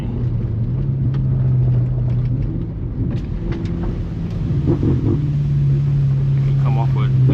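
A BMW F90 M5 slides in 4th gear on a rough road, its engine a constant low drone mixed with wind rumble inside the cabin, with brief voices over it.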